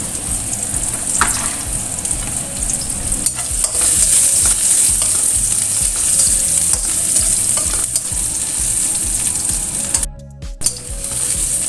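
A little oil frying in a pan with shallots and garlic for a stir-fried chayote dish, a loud continuous sizzle and crackle, briefly cut off near the end, with no speech.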